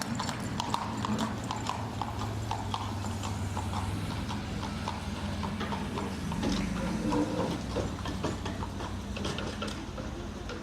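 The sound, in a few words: horse-drawn traffic, hooves clip-clopping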